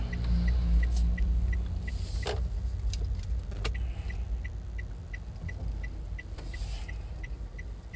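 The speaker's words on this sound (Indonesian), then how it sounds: "Kita parkir mobil dulu." A car parks near a bamboo grove, with steady low engine rumble, a few sharp clicks and squeaks, and a regular repeating beep like a parking sensor throughout.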